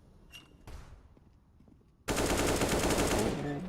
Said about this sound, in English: And even more wall bangs coming in for the T side